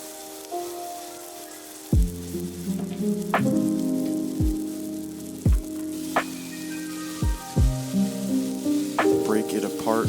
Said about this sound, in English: we are just going to fry in a shallow frying pan